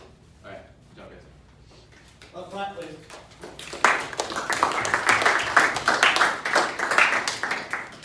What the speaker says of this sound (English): Well, clap, please.